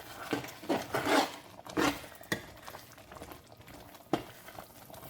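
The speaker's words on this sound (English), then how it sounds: "Just give it another stir" Bacon mushroom chicken alfredo sauce stirred in a pan with the heat off, giving several soft scraping, clinking strokes over a low bubbling simmer, close by and fairly quiet, with no talking.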